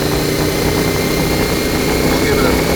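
A CFMOTO Ibex 450 motorcycle engine idles steadily after an ECU tune. The loud, even drone holds without surging.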